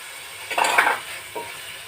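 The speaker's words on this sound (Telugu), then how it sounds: "ఈ పచ్చిమిర్చి వేద్దాం." Green chilies drop into fish curry cooking in a pan, with a short burst of clattering and sizzling, then a second smaller stir a moment later.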